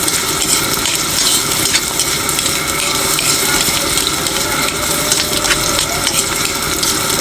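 Garlic frying and being stirred in a pan for a mackerel sardine dish, with a steady dense sizzle and scraping, clattering stir strokes running throughout, close and fairly loud.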